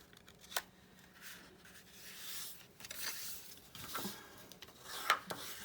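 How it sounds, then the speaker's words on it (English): Paper being folded by hand without a scoring board, with soft close rustles, creases and rubbing strokes coming in short bursts against a quiet background. "how to fold them without a scored board. So, all right, so we're going to fold it."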